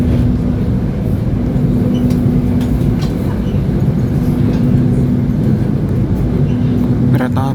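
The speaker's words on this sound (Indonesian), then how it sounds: "Kereta api Sembrani tiba di stasiun Jatinegara." The Sembrani passenger train arrives at Jatinegara station, a loud continuous rumble with a steady humming tone throughout, heard up close from on board with faint clatter near the end.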